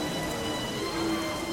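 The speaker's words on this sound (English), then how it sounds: "Suddenly, there's a wall of rain in front of the dragons." Rain falls in a narrated fantasy story about Merlin and dragons: a dense, steady hiss of rain fills the space, even and fairly loud, with no voices over it.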